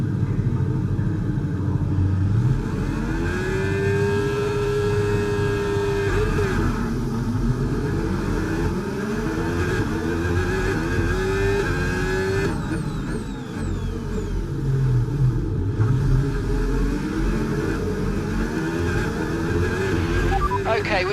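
F1 car engines from the F1 25 racing game rumble steadily at the race start, with several pitch sweeps as the engines rev, under intermittent radio talk.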